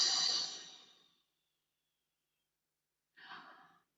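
A single long, deep breath out sighs audibly for about a second in a quiet room, then after a silent pause a shorter, softer breath follows.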